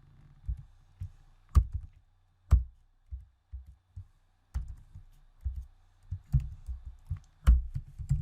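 Java code is typed on a computer keyboard in a quiet room: scattered, uneven clacks and thumps with a few sharper key strikes, close and distinct, no talking.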